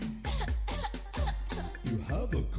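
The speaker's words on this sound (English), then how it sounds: "You have a cough." A person coughs repeatedly in heavy, chesty bursts, close and loud, with several harsh coughs in quick succession and some throat-clearing mixed in.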